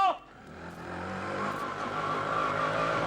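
A small engine drones past at night, the auto rickshaw's sound building steadily from a quiet start into a sustained close rumble.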